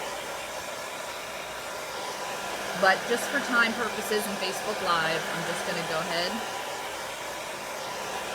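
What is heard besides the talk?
hair dryer on hot drying chalk paste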